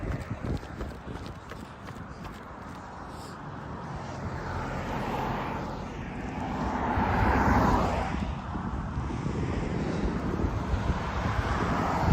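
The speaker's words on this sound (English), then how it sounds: "Wind breeze is picking up a little bit, but it doesn't feel too bad right now" Wind gusts build outdoors at a running race in Bozeman, Montana, a broad steady rushing that swells midway and stays loud, with footsteps and faint crowd noise mixed beneath.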